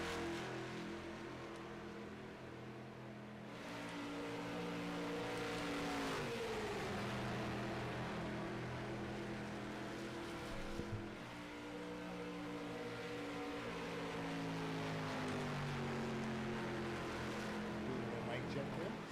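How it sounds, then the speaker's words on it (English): Street stock race cars warm up at Chicagoland with a continuous loud engine drone, revs rising and falling in pitch as several cars idle and accelerate, and voices talk underneath. "Increase the car sounds for tonight"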